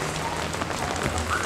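Morning rain falls steadily at a resort in Vityazevo, Anapa, near an outdoor dining area, a dense continuous patter and hiss of drops on surfaces.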